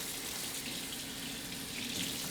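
A kitchen tap runs steadily into a sink to wet paper towels, a continuous close hiss and splash of water with no break.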